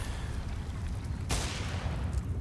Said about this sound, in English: Fire just raining down upon them. Gunfire follows suit, and it's done for.